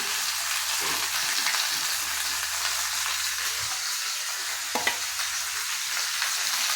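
Food is stir-fried in a pan in the kosha style, giving a steady broadband sizzle with occasional scraping and clinks of a spatula. The sound is fairly loud and close, with no voices.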